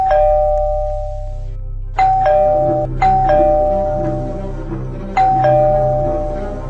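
Doorbell in the Roblox game Berry Avenue rings loud and close: a clear two-tone ding-dong chime repeated four times, each ring decaying before the next press.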